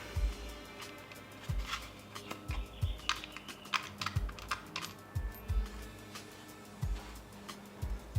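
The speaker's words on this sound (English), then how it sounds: "Next we're going to undo the single Torx bolt on the dash guard" A single Torx bolt being undone on the dash guard of a Specialized Creo SL e-bike, with repeated close clicking and ratcheting taps in an irregular rhythm, fairly quiet.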